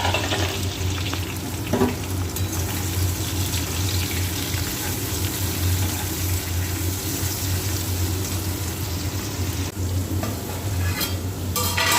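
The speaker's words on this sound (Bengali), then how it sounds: "কড়াতে তেজপাতা আর গোটা গরম মশলা দিয়ে দিলাম, দিয়ে তারপর পেঁয়াজ দিয়ে দিলাম, মাংসটা কষাবো।" Onion, bay leaves and whole garam masala fry in oil in a wok, a loud continuous sizzle with stirring scrapes, close and steady, with a low background hum and no talk.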